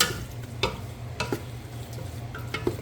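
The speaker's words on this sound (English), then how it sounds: "So let's go ahead and we're going to stir that all in." A spoon stirs oyster artichoke soup in a pot, giving a soft bubbling bed broken by a few sharp clinks and scrapes against the pot, quiet and close.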